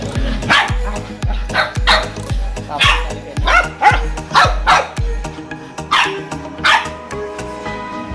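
Tanya, an angry pet dog, barks again and again in a rapid, close, loud series, with brief pauses and a few whimpering yips near the end.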